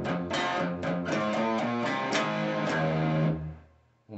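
Distorted electric guitar plays a riff, a run of choppy, rhythmic notes ending on a held chord that fades out.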